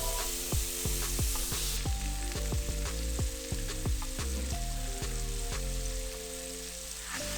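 A tablespoon of butter, cut into three pieces, sizzles and crackles in a hot pan ready for scallops, a close, loud, continuous frying hiss with scattered pops and spatters.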